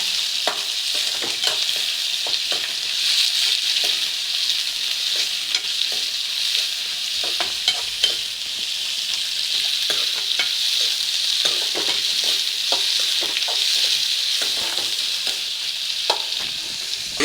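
Steady crackling sizzle of two sliced onions frying in a pan for a squid fry, with frequent scraping and stirring clicks throughout, fairly loud and close, no voices.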